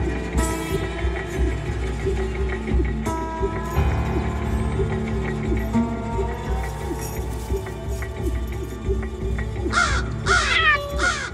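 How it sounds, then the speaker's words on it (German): Crows give warning calls: harsh caws ring out several times over a busy outdoor background, ending with a rapid burst of loud, close cawing. "Krähen haben verschiedene Warnrufe, einen für Katzen und einen für Habichte und auch einen für Menschen."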